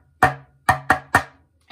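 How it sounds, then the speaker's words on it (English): A drumstick strikes the top of a plastic bucket drum four times, loud and close, in an uneven rhythm of one hit, a pause, then three quicker hits, followed by a softer fifth tap. "just hit it on the top"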